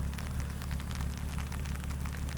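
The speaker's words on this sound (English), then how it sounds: "the rain hitting the car sounds amazing" Steady rain drums on the body of a BMW M4, a dense, continuous patter with a low rumbling undertone and no voices.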